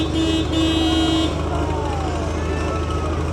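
A boat horn at Disney Springs sounds a long steady tone that cuts off partway through, leaving loud outdoor crowd and engine noise behind it.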